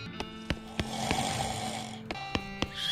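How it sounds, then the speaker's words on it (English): Snoring from a sleeping character in a room in the video game West of Loathing, a steady rumbling breath over three seconds with soft repeated thumps and no talk. "I can hear snoring in this room."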